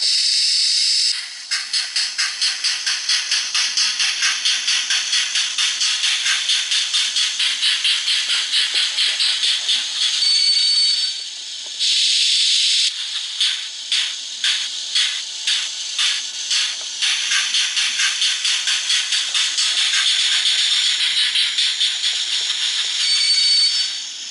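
Minitrix N-gauge digital sound steam locomotive giving a continuous hissing chuff with rapid rhythmic beats that pause, slow to distinct puffs, then speed up again, thin and close.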